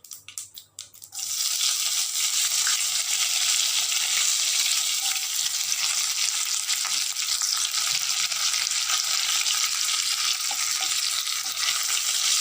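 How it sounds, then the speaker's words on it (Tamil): Urad dal, chana dal, cumin and curry leaves crackle and sizzle steadily in hot oil, a loud dense frying hiss after a brief clattering start, with occasional stirring scrapes. "இதெல்லாம் சும்மா நேரம் மாறுற வரைக்கும் கொஞ்சம் வதக்கி விடுங்க"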